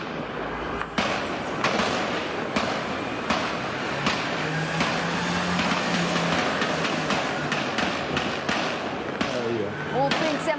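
Sharp, loud bangs of gunfire during a police shootout in Praça Seca ring out at irregular intervals, echoing across an open outdoor space, with faint background noise between shots.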